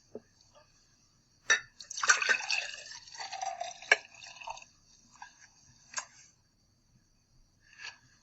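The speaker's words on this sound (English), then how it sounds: "Now we're going to pour this juice into this glass." Juice poured from one container into a glass in a classroom demonstration, giving a few short splashy pours and drips separated by quiet gaps, close and fairly soft with no talk.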